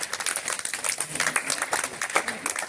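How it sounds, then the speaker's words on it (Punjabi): Children at a sports academy in the village of Mahindipur clap loudly together, a dense, steady patter of many hands that runs without a break from start to end. "ਸਾਰੇ ਬੱਚੇ ਜ਼ੋਰ ਦੀ ਤਾੜੀ ਮਾਰੋ"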